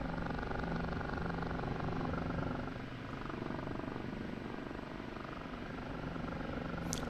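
Steady droning rotor and engine hum of an OH-58D Kiowa Warrior helicopter in flight in the DCS flight simulator, continuous and fairly even with a slight dip midway, no voices over it.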